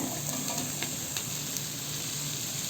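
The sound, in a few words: fried chicken pieces added to pan for fried rice, sizzling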